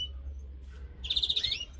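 A male canary kept outdoors chirps, giving a quick series of bright, rapid notes after a brief faint call, close and fairly quiet against a low background hum.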